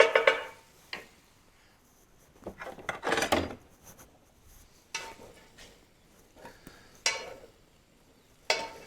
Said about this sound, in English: Clean up my pan just a smidge